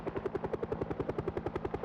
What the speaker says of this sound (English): He waited for the helicopter to get closer and prepared for the rescue.